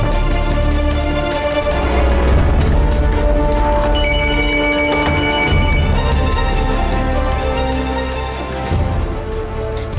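An electronic telephone ringtone plays loudly and continuously, a repeating melodic ring that persists through the whole stretch with no voices over it.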